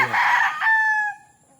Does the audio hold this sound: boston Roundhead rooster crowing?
yes